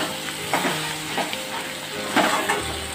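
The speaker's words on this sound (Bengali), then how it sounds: "সব কিছু ভালোভাবে একবার নেড়ে মিশিয়ে নেব" Ground spice paste and salt stirred into hot oil with ridge gourd in a pan, giving a close, steady sizzle broken by a few scraping stirs over about three seconds.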